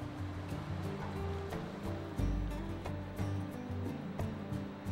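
Water rushes steadily beside a covered bridge in New England, a dense continuous wash with a low hum underneath and no voices.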